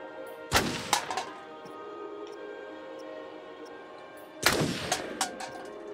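Two loud, booming gunshots in the video game Until Dawn, a few seconds apart, each with a sharp crack and a lingering rumbling tail over a quiet background.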